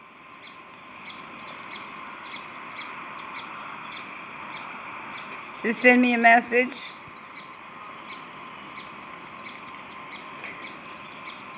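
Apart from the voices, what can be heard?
sparrow chirping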